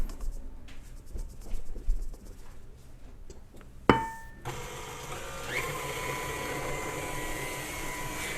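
An electric mixer blending dry ingredients into wet batter starts up after a few soft clinks, then runs with a steady, fairly quiet whir to the end.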